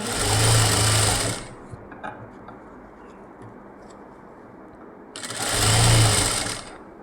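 A sewing machine stitches silk piping along a neckline in two loud whirring bursts of about a second each, separated by a quiet pause with faint handling noises.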